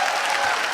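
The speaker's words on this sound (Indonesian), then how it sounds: "tepuk tangan buat Deswin" A studio audience claps steadily at a live stand-up comedy show, a dense, even wash of applause that holds at the same level throughout the short burst.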